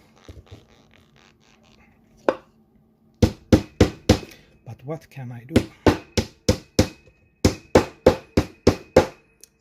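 A hammer pounds on a wooden table while a Eurorack synthesizer case is built: a single blow, then a steady run of about fifteen loud, close, sharp strikes in an even rhythm. Someone speaks briefly before the hammering starts.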